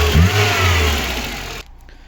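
A VAZ 2115 petrol engine with one dead cylinder revs loudly and unevenly up close, then cuts off abruptly near the end, leaving near silence.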